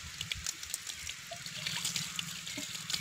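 Water gushing from a hand pump at Mukkombu Dam, a continuous splashing and trickling stream with small sloshes, steady and moderately close.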